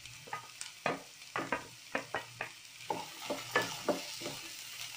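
Onions, beans and carrots stirred in a pan for fish fried rice, with a steady run of scraping stir strokes over a soft sizzle, close and moderately loud.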